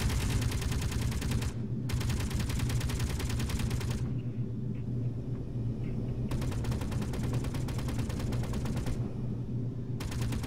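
A Gatling gun in the video game Space Engineers fires in long sustained bursts of rapid rattling shots, split by brief pauses and backed by a constant low hum.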